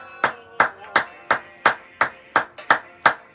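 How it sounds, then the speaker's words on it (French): Rhythmic clapping in a church service praising Jesus, about nine sharp even claps close by, steady tempo with little else around. "Donnons à Jésus des acclamations"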